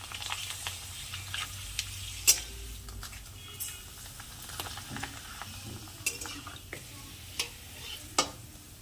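Homemade rice papad fries in hot oil with a quiet, continuous sizzle, broken up by scattered clicks and scrapes of a utensil stirring and turning it in the pan.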